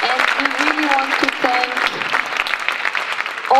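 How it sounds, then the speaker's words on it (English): An audience breaks into steady applause at a World Council for Health event, with clapping filling the clip alongside a speaker's voice. "Please, a big applause."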